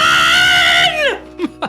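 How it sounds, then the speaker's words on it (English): A person lets out a loud, piercing scream held for nearly a second before it sweeps downward, followed by two short yelps. "all I heard was that scream"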